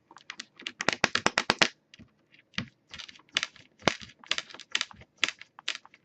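A bracelet clinks and ticks in quick, irregular bursts as hands roll thin coils of Fimo polymer clay, close and sharp with brief gaps between clusters.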